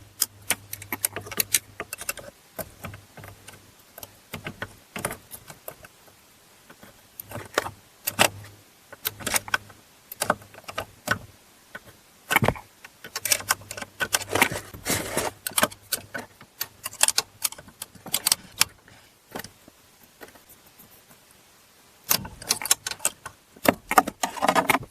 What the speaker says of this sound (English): pull both of the retaining clips out of the side